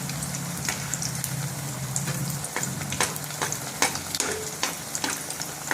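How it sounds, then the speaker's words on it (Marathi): A snack dough fries in hot oil in a kadhai wok, a continuous close crackling sizzle with scattered pops and occasional stirring scrapes, no talk. "आता यांना छान अशा तळून घेते."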